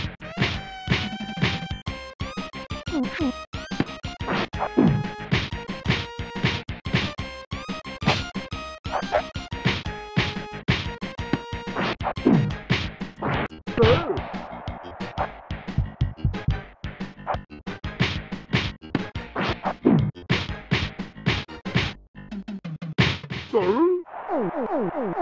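Punches land as jabs and hooks in a Super Nintendo boxing game: a long run of sharp, rapid thwacks and crashes over busy chiptune music, with dense clusters of hits and no voices.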